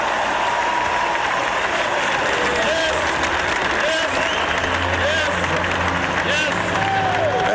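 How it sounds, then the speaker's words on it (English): An arena crowd cheers at the 1995 NBA draft inside the SkyDome, a dense, continuous roar of voices and applause throughout, with an announcer's voice running over it. "Got some Tar Heel blue in the Sky Dome here tonight, cheering on Jerry Stackhouse"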